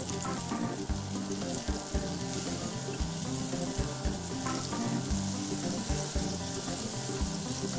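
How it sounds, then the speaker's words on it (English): A pat of butter sizzles in a hot pan for a German pancake, a constant bright crackle layered with fast, regular clicking and some clattering, close and fairly loud, with no talking. "I am going to throw a pat of butter into the pan."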